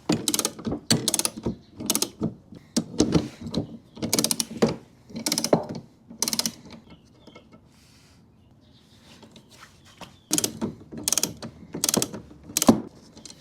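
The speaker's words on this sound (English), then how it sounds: "I'm going to be removing it with a torque wrench" Repeated bursts of ratcheting clicks from a torque wrench fitted with a 17mm socket loosening the outer blade nuts on an EGO mower, close and loud, in several separate runs with a quiet pause in the middle.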